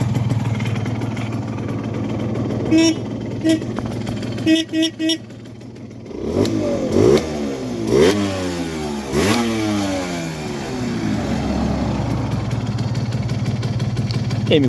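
A tuned Simson S60/4 moped with a 12V system idles with a steady low drone, then revs up and down in several rising and falling sweeps before settling back to a steady run, close and fairly loud.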